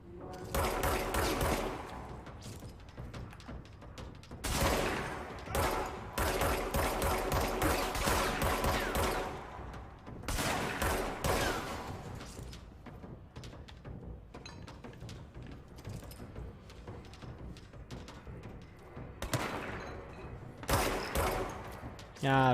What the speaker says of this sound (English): Ah, someone wielding a shotgun.